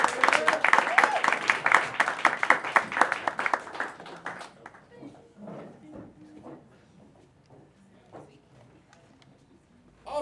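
Open mic night audience at The Evening Muse bursts into dense, close applause and cheering that lasts about four seconds, then fades into scattered claps, murmurs and a voice speaking.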